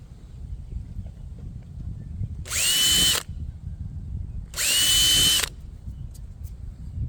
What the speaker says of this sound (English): So I'm gonna drill those out